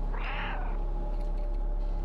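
A cat meows once in the video game Stray, a short clear mid-pitched meow up close, followed by a steady low hum of game ambience with no talking.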